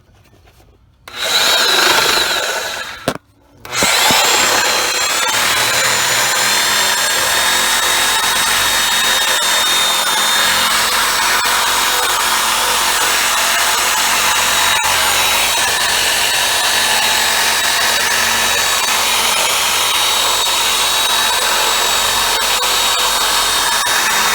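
A Sawzall reciprocating saw cuts through the rubber of a control arm on a 2000 Ford Ranger, starting with two short bursts, then one loud, steady buzzing run that lasts over twenty seconds.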